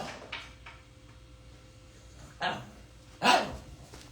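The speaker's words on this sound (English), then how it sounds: "if I'm not touching her at all times, she does bark" A dog indoors gives a few short, sharp barks, two louder ones near the end after a quieter one at the start, set against a quiet room with no talk.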